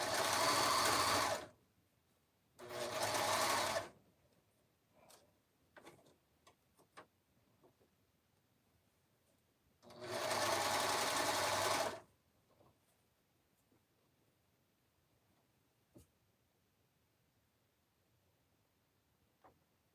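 A sewing machine stitches in three loud, close bursts of fast whirring, separated by quiet gaps filled with scattered light clicks and taps.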